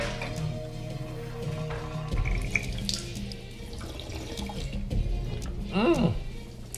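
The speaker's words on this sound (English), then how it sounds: "There's a drinking fountain." Water runs steadily from a drinking fountain in a large house, a continuous close splashing stream with a brief rising squeak near the end.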